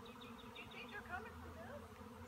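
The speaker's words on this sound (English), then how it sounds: "there's still bees flying out in and out like nothing's happening" A dense, steady drone of a large honey bee swarm buzzing together around a backyard hive trap, continuous and close, with no voices.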